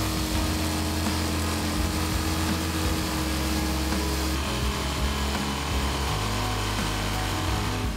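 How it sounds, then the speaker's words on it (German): A jigsaw with a fiberglass-specific blade saws through a fiberglass boat deck, giving a loud, continuous buzzing drone that runs without a break throughout. "Nach dem Anzeichnen geht's dem Deck mit der Stichsäge an den Kragen."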